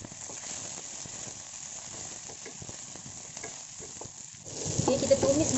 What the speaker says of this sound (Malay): kita tumis semua bahan-bahan ni sampai dia garing